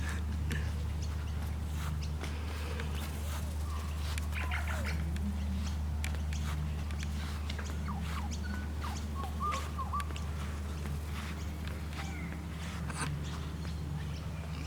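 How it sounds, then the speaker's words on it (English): Many birds calling at a bird sanctuary in Moorooka, scattered chirps and tweets from several directions over a steady low hum, fairly faint and continuous. "Lots of birds."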